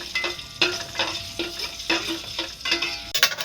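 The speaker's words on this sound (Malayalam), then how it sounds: "കുറച്ചും കൂടി ഒന്ന് അത് ഫ്രൈ ചെയ്ത് മാറ്റി വെക്കാം" Pumpkin pieces frying in a pan with a steady sizzle, while a utensil stirs and scrapes against the pan in regular strokes roughly every half second, close and fairly loud.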